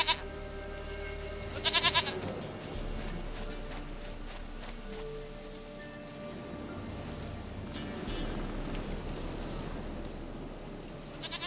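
A goat in The Witcher 3 video game gives a few short bleats, one near the start and one near the end, over a steady ambient game background.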